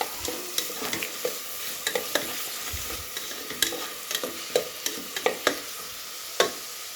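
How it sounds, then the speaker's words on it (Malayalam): Chicken curry with two chopped chillies being stirred in a frying pan: a steady hiss of frying under scraping spoon strokes, with sharper clacks against the pan at irregular intervals, close and fairly quiet. "പിന്നെ നമ്മളതിൽ ഇളക്കി കൊടുക്കാം."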